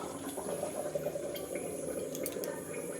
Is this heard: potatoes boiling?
yes